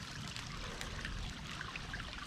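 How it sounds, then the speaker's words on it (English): A small waterfall splashes and trickles in a steady, faint wash of water with no other sounds over it. "Oh, a little waterfall."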